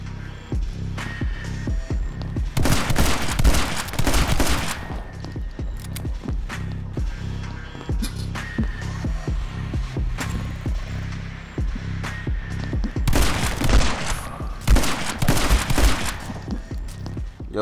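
Rapid, steady gunfire rattles through the action video game My Friend Pedro, dense strings of close shots with heavier bursts twice, set over a constant throbbing backdrop of game music.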